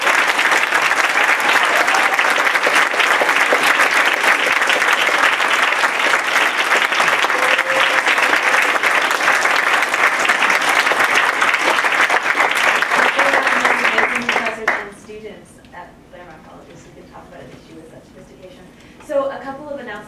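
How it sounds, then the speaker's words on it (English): A large audience applauds at a talk event on fossil fuel divestment, a loud, dense roar of clapping sustained for about fourteen seconds before it fades abruptly into quieter room noise. "can we please give a big round of applause?"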